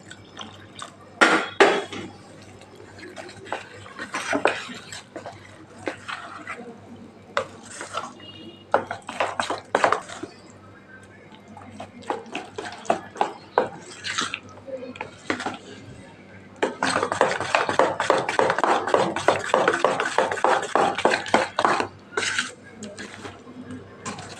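Dhokla batter of vati dal with turmeric, asafoetida, salt and water is whisked in a bowl, giving quick rhythmic scraping and clinking bursts that grow into a dense, steady beating near the end, with a voice talking over parts of it.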